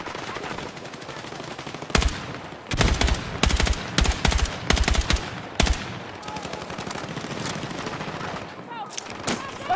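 Video game gunfire rings out in rapid, loud bursts and quick volleys that come and go over several seconds, with a voice talking in between.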